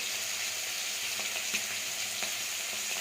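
Ginger and cumin spices sizzling in a pan with fried shrimp, a steady close frying hiss with a few small pops and stirring clicks.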